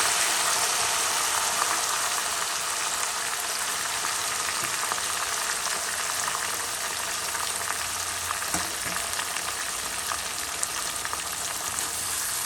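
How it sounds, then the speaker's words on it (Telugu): Curry for fried egg biryani fries in a pan with mint and coriander, giving a loud, steady, close hiss of sizzling oil that continues without a break. "సో ఎక్కడ మాడకుండా మంచిగా ఫ్రై చేసుకుందాం"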